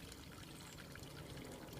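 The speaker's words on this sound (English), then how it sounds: "This part here is our fountain." A garden fountain trickles with a soft, steady wash of running water, faint and continuous throughout, with no voices.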